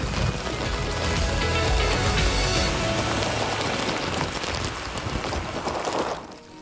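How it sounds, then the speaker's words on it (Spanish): Steady rain falling harder outdoors at Igueste, a dense continuous hiss of drops on surfaces that holds loud and even throughout before easing slightly at the very end. "ahora está lloviendo un poquito más fuerte"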